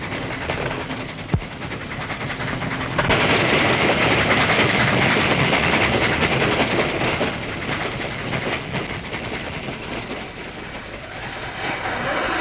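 A train rolls steadily along the rails in a Malayalam film scene, a loud, continuous rumbling roar with rhythmic wheel clatter that swells after a sharp knock near the start and carries on without talk.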